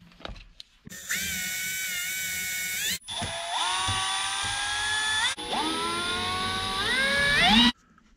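A power drill whines in three separate bursts as it backs stainless screws out of aluminum portal parts on an RC truck, its pitch rising within each burst, close and alone.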